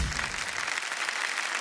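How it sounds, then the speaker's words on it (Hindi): Studio audience on a TV quiz show breaks into sustained applause, dense, even clapping that fills the room and carries throughout with no talking over it. "ताली बज जाए इनके लिए।"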